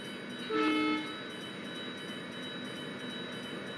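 A WDG-3A locomotive at Chanderia station in the MSTS/OpenRails train simulator sounds a short two-tone horn blast, followed by the steady hum of the idling train.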